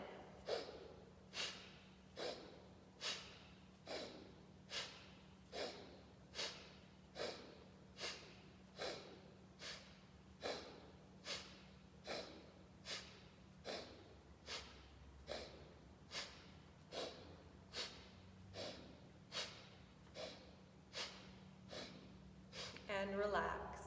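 Rapid, rhythmic forceful breaths from an energizing breathing exercise, about two dozen sharp inhale-exhale bursts at a steady pace, close and clear, with a steady low hum beneath and a longer breath at the end.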